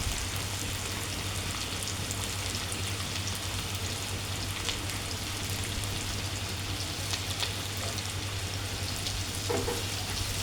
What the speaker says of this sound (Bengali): পেঁয়াজের মধ্যগুলো একটু ভেজে নেব